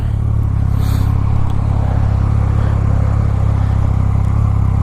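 A Yamaha FZ-09 motorcycle engine holds a loud, steady high-revving drone during a power wheelie, close up and continuous with wind rush, with no voices.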